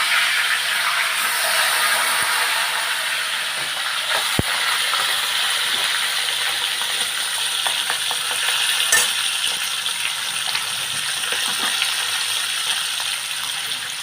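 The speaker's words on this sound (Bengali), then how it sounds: "এই যে আমি ভেজে তুলে নিচ্ছি দেখেছ যে ভেজে তুলে নিচ্ছি" Fish heads fry in hot oil with a loud, dense, steady sizzle, broken by scraping and clinking as pieces are turned and lifted out, plus one sharp knock.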